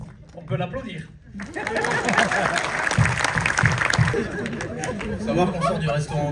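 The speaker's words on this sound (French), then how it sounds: "On peut l'applaudir" Applause at a French action-film premiere screening in a cinema builds after a quiet start into steady clapping, mixed with chatter and some laughter from the crowd.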